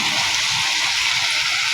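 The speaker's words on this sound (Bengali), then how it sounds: "আমি এখানে ছোলাগুলো ঢেলে দেবো।" Chickpeas poured into a cooking pan with browned spices, a steady hissing rush with a loud bright sizzle throughout and no talking.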